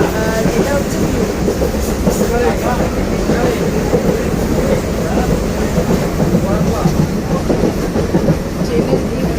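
A moving train rolls through open countryside in Bengal, a loud, steady rumble with rhythmic clickety-clack of wheels on rails heard close from inside a carriage.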